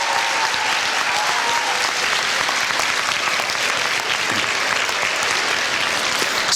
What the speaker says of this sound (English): please give your parents a round of applause for everything they've done for you